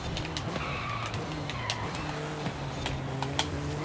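Car engine droning and shifting pitch with tire squeal through braking and cornering in Forza Horizon 5, a continuous racing hum with brief screeches, no talk.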